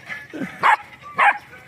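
Puppies playing give two short, sharp yips close by over low background murmur and shuffling.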